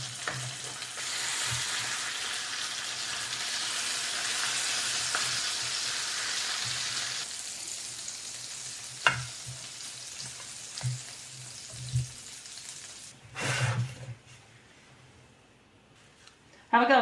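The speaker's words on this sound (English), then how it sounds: "Just going to baste it a little." Food sizzling in a street-food pan in Perlis while being basted, a dense steady frying hiss that eases off midway, with occasional spoon clatters and a voice speaking under it.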